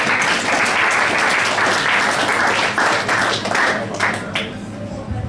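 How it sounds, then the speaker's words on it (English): Sustained applause from a crowd at a sports awards night, dense and steady clapping that gradually thins toward the end. "applause to him"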